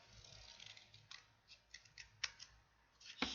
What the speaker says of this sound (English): Now I can just snip it straight across.